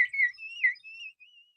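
Water-filled bird whistle blown in a series of warbling, trilling chirps, clear and close, fading out toward the end with no voices.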